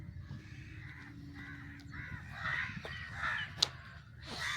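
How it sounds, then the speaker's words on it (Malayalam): Crows caw repeatedly at dawn on Kadamakudi island near Kochi, their calls fairly faint and distant over a steady low rumble of background noise, with one sharper call standing out near the end. "നല്ല കിളികളുടെ ശബ്ദവും."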